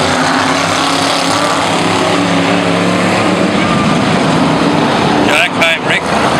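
Race cars roaring as a pack after the green flag at a speedway, a loud, continuous engine drone from a distance, with a brief voice near the end.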